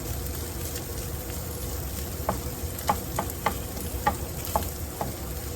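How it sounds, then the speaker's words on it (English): Tomato paste sizzles in a pan with a constant frying hiss, and a run of light spoon taps and stirring clicks comes in about halfway through, close and fairly loud, with no speech. "like to cook out the taste of the tomato paste"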